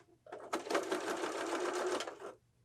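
A sewing machine stitching a pillow with piping in black thread, running steadily in one continuous close burst of a couple of seconds before stopping.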